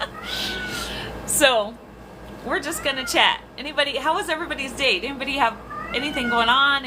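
A house cat meows repeatedly, loud and close, with rising and falling cries while a person talks steadily over it in a room.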